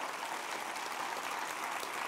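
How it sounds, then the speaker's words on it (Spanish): Church congregation applauding during a sermon, a steady wash of many hands clapping at a moderate, even level without breaks. "Dale un aplauso al Rey bendito."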